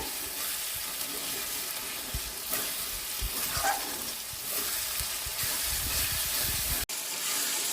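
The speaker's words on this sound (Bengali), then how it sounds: "কিছুক্ষণ ভেজে নিয়েছে, আদা রসুনকে কাঁচা গন্ধ চলে গেছে" Ginger and garlic paste fries in a pan for a chicken curry, giving a continuous soft sizzle with occasional light stirring scrapes, close by and fairly quiet.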